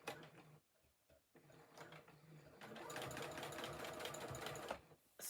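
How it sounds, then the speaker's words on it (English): A sewing machine back stitches fabric for a fleece-lined poncho in short stop-and-start bursts, then a longer steady run of rapid needle clatter, fairly quiet and close. "and back stitch a little bit"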